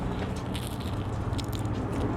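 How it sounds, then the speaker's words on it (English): Someone bites into a crunchy, crispy fried taco shell filled with tender meat at a busy Los Angeles taco spot, the close crunching buried in loud, constant crowd noise. "This is an insanely crunchy, crispy taco shell."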